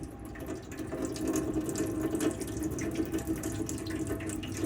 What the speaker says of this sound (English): you just pour the hot water like I'm doing now